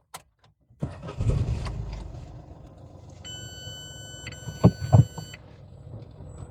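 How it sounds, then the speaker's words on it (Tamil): A base-model Citroën C3 starts up: a brief crank catches into a mid-pitched engine rumble that settles toward idle, while steady electronic warning chimes sound in the middle. A couple of soft clunks come near the end. "இந்த வண்டியை நம்ம அப்படியே ஸ்டார்ட் பண்ணி பார்ப்போம்."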